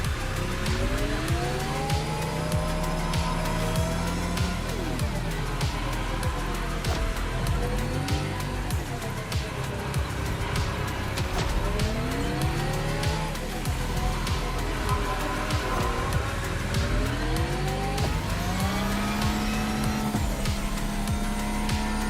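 Formula E race cars in a racing video game whine and rise through gear changes with tire squeal, a continuous loud electric-motor drone sweeping up and down throughout.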